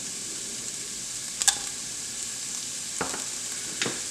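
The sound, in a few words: vegetables and red chilies cooking in soup pot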